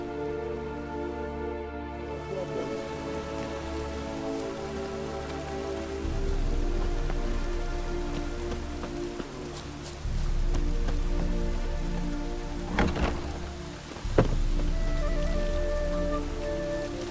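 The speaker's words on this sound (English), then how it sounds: "Rain was coming." Rain falls in the video game The Witcher 3, a steady patter on surfaces under a sustained musical tone, growing heavier partway through, with a few sharper clicks and thuds, no speech.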